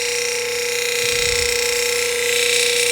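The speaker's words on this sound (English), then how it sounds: "And we have the sound of polishing." A lapidary polishing wheel runs with water on a carnelian cabochon, giving a steady, loud whirring hum with a constant tonal whine and a wet hiss throughout, no voices.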